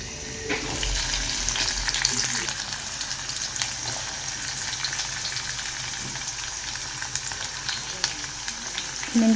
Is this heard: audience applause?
no